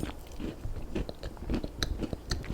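Someone takes close-up bites of thawed, no-sugar bread with a baguette-like texture and chews it. Soft crunches and wet chewing repeat in an uneven rhythm, with no talking.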